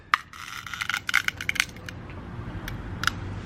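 Sigma manual tile cutter scoring and snapping a backed tile: a cluster of sharp, crisp clicks and cracks in quick succession, then a couple of isolated ticks, close and fairly quiet.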